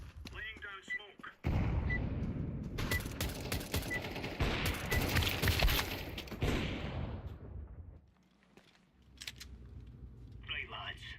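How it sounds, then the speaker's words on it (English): A flashbang and a smoke grenade are thrown in a tactical shooter video game, followed by a dense burst of explosive blasts and gunfire. Voices speak over it, and the action fades into a quieter stretch. "Throwing flashbang. Laying down smoke."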